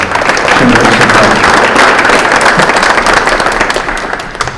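An audience at a community discussion on policing claps loudly and steadily for several seconds, dense crackling applause that tapers slightly at the end.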